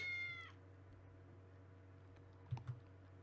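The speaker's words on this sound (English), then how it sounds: "Where did that cat come from?" A single cat meow from the RPG Maker horror game Do Us Part sounds briefly at the start, clear and fairly close over a low electrical hum. A couple of faint keyboard clicks follow later.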